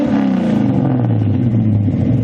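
A Ford Fairmont's engine revs loudly and close by, its pitch dipping and holding in a steady throaty drone with some mechanical clatter, no talking.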